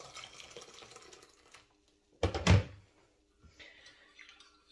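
Water poured from a kettle or jug to make coffee in a home kitchen, a short loud splashing burst mid-clip between quieter household noise.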